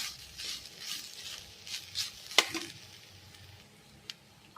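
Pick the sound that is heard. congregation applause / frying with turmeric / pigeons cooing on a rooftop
frying with turmeric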